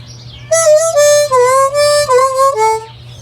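A harmonica plays a short riff: about six clear notes, with bent draw notes sliding downward, played up close over a faint low hum.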